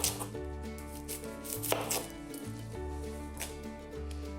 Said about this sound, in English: We want to do our onion. I'm gonna cut off either end.